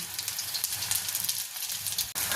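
Fish balls of rohu fish frying in hot oil, a steady dense sizzle with crackling pops throughout, close and fairly loud.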